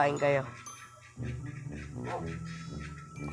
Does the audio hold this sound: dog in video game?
yes